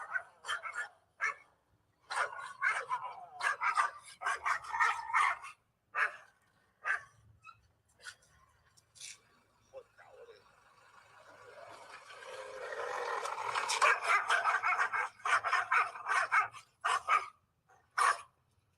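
Dogs barking in sharp bursts, then a loud snarling, growling scuffle that builds before more barks break out.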